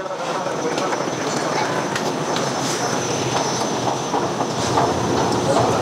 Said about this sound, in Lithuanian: Čia yra Minsko geležinkelio stotis.